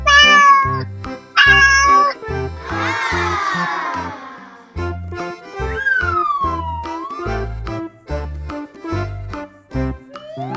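A cartoonish cat meow from a children's alphabet learning toy train plays over a bouncy synthesized tune, with other toy sound effects and a siren-like swoop nearby.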